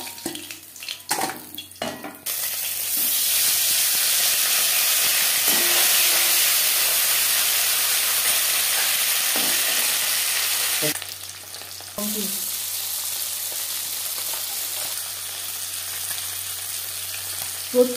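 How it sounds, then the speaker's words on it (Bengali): Bele fish frying in a pan, a loud, steady sizzling hiss that continues for most of the stretch after a few opening clanks, dipping briefly once before carrying on. "প্রত্যেক ব্যাচের মাছ একইভাবে ভেজে নেব"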